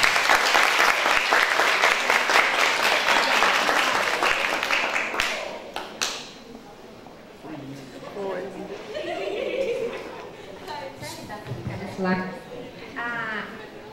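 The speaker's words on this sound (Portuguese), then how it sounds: "Uma salva de palmas para eles." A school lecture audience breaks into loud, dense applause for a row of teachers, the crowd clapping steadily for about five seconds before it fades into murmured chatter and someone speaking.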